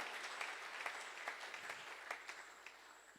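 Church congregation applauding, a soft, distant patter of many hands clapping continuously in a reverberant hall.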